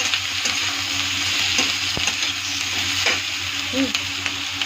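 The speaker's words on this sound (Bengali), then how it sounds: "এখন দেখো শিমলা মির্চ এটা ছেড়ে দেবো, এটা ছেড়ে দিয়ে একটু নেড়ে ছেড়ে ভাজা ভাজা করবো" Capsicum stir-fried in hot oil with onion, nigella seeds and chilli makes a loud, continuous close sizzle, with occasional sharp clicks of a spatula stirring the pan and no voices.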